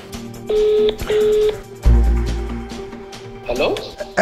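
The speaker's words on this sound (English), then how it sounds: "It's ringing now." A telephone rings twice in two evenly spaced electronic bursts, followed by a low thump, some shuffling noises and a brief voice.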